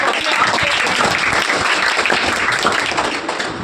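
A crowd claps loudly to welcome a speaker at a ceremony honoring top-ranking students. The applause is a thick, continuous roar of many hands, sustained evenly throughout and easing only slightly at the end.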